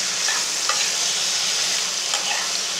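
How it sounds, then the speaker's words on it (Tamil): Bitter gourd pieces frying and being stirred for puli kulambu, a dense even sizzle with a few light scrapes of the ladle against the pan, close and steady throughout. "அந்த அளவுக்கு கொஞ்சம் நேரம் ஃப்ரை பண்ணிக்கிட்டே இருங்க"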